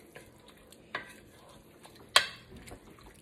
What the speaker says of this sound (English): So stir that around.